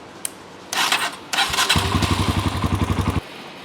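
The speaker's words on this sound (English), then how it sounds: "you're gonna start the engine, run it for about 20 seconds" A Kawasaki KLX140 motorcycle engine cranks with a couple of thumps, then catches and runs with a steady, rapid single-cylinder putter close by, cutting off abruptly after about two seconds.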